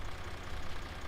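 Steady low engine chug of a well-used tractor in Farming Simulator 17, a continuous idling rumble with no talk, loud and close throughout the short stretch.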